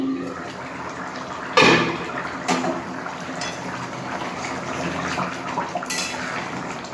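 A pot lid is lifted off a simmering bottle gourd and egg curry, a sharp metallic clank followed by lighter knocks and clinks over a steady bubbling, kitchen background.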